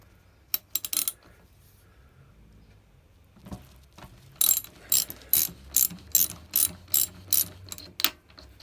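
Ratchet wrench turning a 12mm Allen head socket on the old 3/8 drive, working on a Kawasaki ZX9R Ninja motorcycle swingarm: a few quick clicks, a pause, then a steady run of about eight sharp, close ratcheting bursts.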